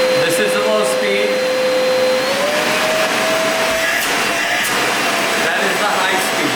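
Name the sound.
Prolux tool box vacuum running at low speed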